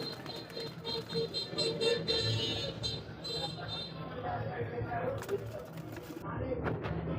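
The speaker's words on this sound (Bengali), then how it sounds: "এই দেখেন নর ডাকাটাই করছে এটা হচ্ছে নর" A male Rajgolla pigeon coos in low, repeated soft calls close by, mixed with someone talking and faint background traffic.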